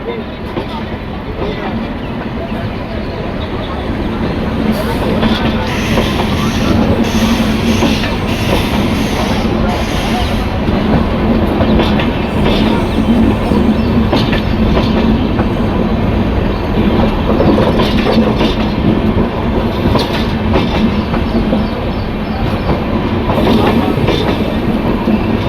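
Vivek Express from Okha to Tuticorin, hauled by a WAP 7 electric locomotive, rolls steadily out of Rajkot Junction with a continuous rumbling clickety-clack of wheels over rail joints, loud and close throughout, with some faint voices mixed in.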